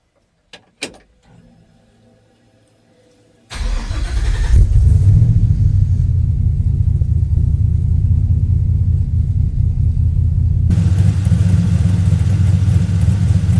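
A 1960 Chevrolet Apache truck engine is cranked and fires up after a power steering rack fitting swap; a few clicks come first, then a loud, steady idle rumble continues close by to the end.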